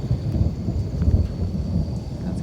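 Thunder from a nearby cloud-to-ground lightning strike rolls as a steady low rumble during a night storm, loud and continuous with no break.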